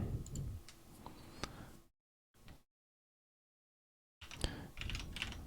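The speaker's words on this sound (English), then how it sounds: "Keep hitting the wrong keys." Rapid, close clicking of a computer keyboard while coding, in irregular bursts of keystrokes broken by a few seconds of silence in the middle.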